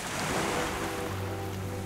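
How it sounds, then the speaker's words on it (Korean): Gentle ocean waves wash softly with a breezy hiss at dawn on Jeju, plus a low steady hum underneath; brief and fairly quiet. "잔잔한 파도 소리와 새벽 풀벌레 소리 그리고 바닷바람 소리가 눈앞의 일출을 더 아름답게 만들어주는 것 같습니다."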